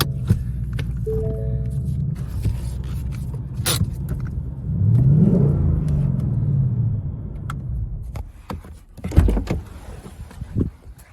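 A Ford Mustang S550 rumbles as it is started and driven a short way, a low engine tone rising briefly in pitch mid-clip, with scattered knocks and clunks nearby.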